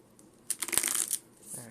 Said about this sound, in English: So that was a bad shuffle, let me redo that.